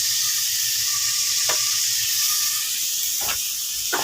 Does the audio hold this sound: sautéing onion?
yes